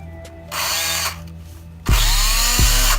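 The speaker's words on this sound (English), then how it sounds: "Why would you drill it onto this thing?" A power drill drilling into a car part while fitting a carbon fiber wing on a Mazdaspeed whirs in two bursts, the second louder and closer with rising pitch, separated by low mechanical hum.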